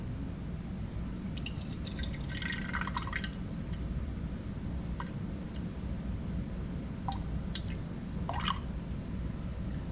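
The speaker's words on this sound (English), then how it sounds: "now I'm going to pour in and put 2 ounces in there" Liquid, about two ounces, is poured into a container sitting on a counting scale, giving faint trickling and dripping splashes over a steady low background rumble, with no talking.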